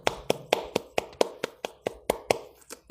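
About a dozen hand claps in a steady, even rhythm, sharp and close, with nothing else over them.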